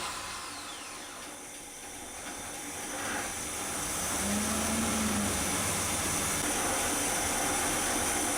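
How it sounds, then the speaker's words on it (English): A warmed-up engine, its idle mixture screws backed out about two turns, starts and settles into a steady idle, a continuous mechanical drone with a low tonal hum that rises slightly partway through, with no talking. "the engine's all warmed up. So let me start it up"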